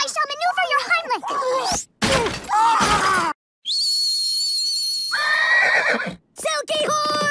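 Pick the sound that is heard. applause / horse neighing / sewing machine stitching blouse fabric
horse neighing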